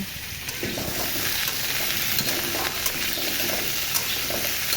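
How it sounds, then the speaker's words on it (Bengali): Pointed gourd and potato pieces fry in oil in a home kitchen, making a loud, continuous hiss and crackle. The sizzle stays close and steady, with no pauses and no voices. "পটল আর আলুগুলো তেলের মধ্যে ভেজে নেব"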